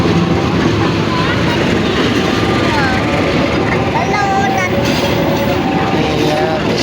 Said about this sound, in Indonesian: Wisata gratis, lihat kereta lewat.